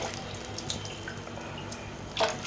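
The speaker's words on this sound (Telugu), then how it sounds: "నాలుగు గ్లాసుల వాటర్ పోస్తున్నాను" Water pours into semolina in a pot for cooking, a soft steady splashing trickle with a brief louder gush near the end, and no talking.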